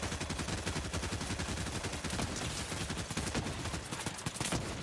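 Video game gunfire crackles steadily throughout, a dense continuous rattle of many overlapping shots at a fairly even, moderate level with no clear pauses and no speech.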